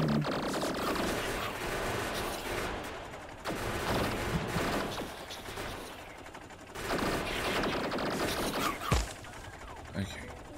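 A tank fires at a rock in Factorio, dense rumbling bursts of cannon and gunfire repeating in waves with a few sharper thuds, loud and continuous amid game noise.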